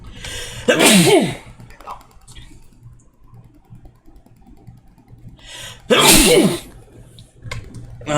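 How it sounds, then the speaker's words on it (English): Two loud, sharp sneezes burst out about five seconds apart, close by, with quiet breathing and soft background noise between them. "I had to sneeze right there"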